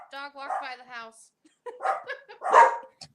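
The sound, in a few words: dog barking as it walks by the house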